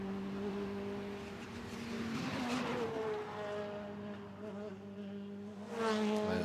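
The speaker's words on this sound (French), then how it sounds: "Remonter vers l'épingle maintenant pour cette voiture." A Citroën C2R2 Max rally car on a Spa Rally stage heading toward a hairpin, its engine droning steadily at a distance, pitch rising and falling, then growing louder near the end.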